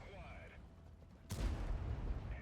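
A Centurion AX tank cannon shot in World of Tanks, one sudden heavy boom followed by a rumbling tail over background battle noise, with someone talking.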